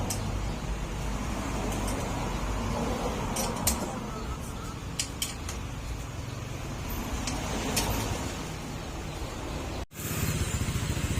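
A Honda Click 150 scooter engine runs steadily nearby with a continuous low rumble, with a few metallic clinks and a brief cut before it resumes.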